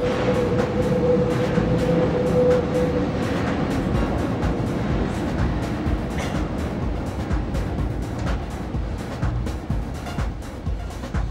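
Paris metro train running, a loud continuous rumble and rattle of the carriage with a sustained whine early on and repeated clacks over the track, close and steady with no talk.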